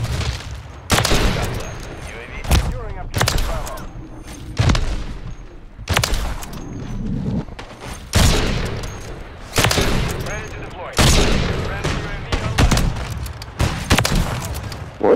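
Loud, rapid bursts of automatic gunfire from the shooter game MW3 with an FJX Imperium sniper loadout, repeated volleys and sharp cracks filling the whole stretch, close up, with players talking between and under the shots.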